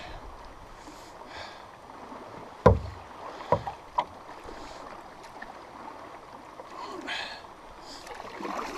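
A solo canoe is paddled on a windy lake, with a steady wind and water wash throughout and a few sharp knocks of the paddle against the hull near the middle.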